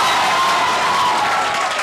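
An audience in a coaching institute hall claps steadily for the top entrance-exam students, a dense, even wash of applause with faint cheering for a couple of seconds.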